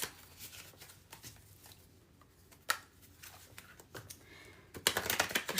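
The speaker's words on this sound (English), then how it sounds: "I'm going to shuffle these" Tarot or oracle cards shuffled by hand at close range make soft irregular riffles and taps, building into a louder flurry of rapid shuffling near the end, with no talk.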